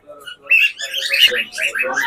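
Cockatiels at a pet bird market give short, bright chirps and whistling calls close by, in quick bursts with brief gaps, clear and loud with a voice faintly mixed in.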